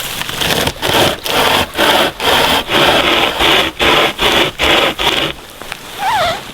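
Close hand saw cutting hardwood outdoors on a cold night, about ten rhythmic rasping strokes with short gaps between them, ending in a brief pause and a faint scrape.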